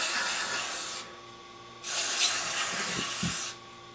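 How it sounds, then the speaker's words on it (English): Aerosol carburetor cleaner sprays into a carburetor being cleaned during fuel pump repair work, two loud sustained hissing bursts close by, separated by a brief pause, with a couple of faint knocks near the end. "Spray through it, and then spray it, make sure it goes both ways good"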